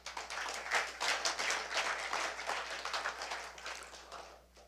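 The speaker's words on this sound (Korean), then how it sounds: "박수 한번 쳐주십시오" Scattered applause from an audience at a university lecture, light, uneven clapping that swells and then thins out toward the end, with a faint low hum underneath and no talking.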